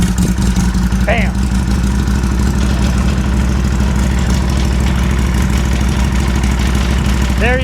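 A Harley-Davidson Sportster 1275 motorcycle engine idles loud and close just after starting, a steady rapid low thumping throughout with brief voice sounds.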